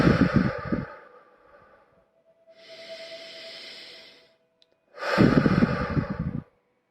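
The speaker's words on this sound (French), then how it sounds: "Essayez de prendre 3 respirations." Deep breaths taken during a guided breathing exercise: a loud close breath, a softer drawn-out breath in the middle, then another strong exhale, three in all, with no talking.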